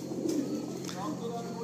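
A male blue Madrasi pigeon coos in short, soft low calls close by, while a person talks over and between the coos.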